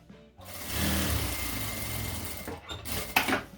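A sewing machine runs a seam on a fabric pencil case, a close, steady motor whir with rapid needle rhythm for about two seconds, followed by short bursts and handling noises.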